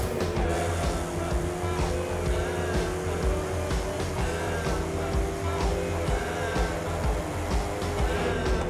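A Koenigsegg Regera drifting in The Crew 2, its engine holding a steady, loud drone with a sustained tonal whine throughout, continuous and close.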